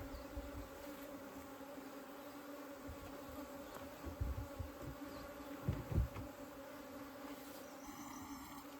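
Honey bees freshly dumped into a hive buzz in a soft, continuous hum with occasional louder swells, faint and steady with no voices.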